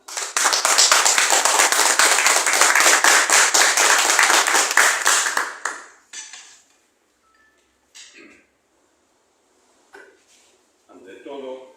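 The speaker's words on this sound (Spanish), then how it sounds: "Un voto de aplausos, hermanos." Applause from a gathered crowd at a national and international press conference marking 100 years of Huancho Lima and one year since the Juliaca massacre, loud and dense for about six seconds before cutting off, followed by scattered faint handling noises and brief talk.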